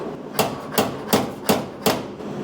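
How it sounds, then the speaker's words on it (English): Five sharp metallic hammer strikes on a sheet metal floor pan of an old Ford, landing at an even, steady pace, each ringing briefly before the next, close and loud. "is going to allow me to hammer on this."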